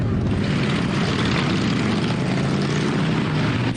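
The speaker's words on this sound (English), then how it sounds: "Engines are revving" Motorcycle engines at the Fall Ride bike rally in Tomahawk, heard as a loud, continuous roaring drone that holds steady without clear breaks or individual revs.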